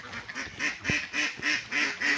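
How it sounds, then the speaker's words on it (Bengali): A run of nasal duck quacks on a duck farm repeats in quick, steady succession, fairly close and clear, with a single low thump partway through. "দেখেন কতগুলো হাঁস"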